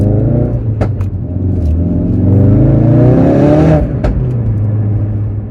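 A 500-horsepower Ford Focus RS MK3 fitted with the Hendy Performance HP500 upgrade accelerates hard, its engine note climbing through the revs, loud and close with a brief lift between pulls.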